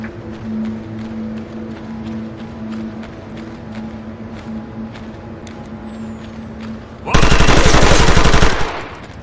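Machine-gun fire from the SOCOM U.S. Navy SEALs Portable: Fireteam Bravo 3 video game erupts as a loud, sustained burst at the end, following a steady low engine drone and faint radio chatter.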